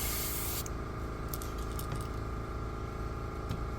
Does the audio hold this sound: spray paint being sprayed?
yes